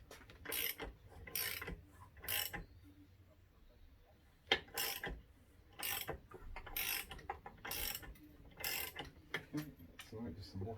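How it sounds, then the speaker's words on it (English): A metal drift tapped against Vespa scooter parts near the stator plate, giving clusters of sharp close metallic taps and clicks in irregular bursts, with quiet gaps between them. "now use your drift and tap that bit again"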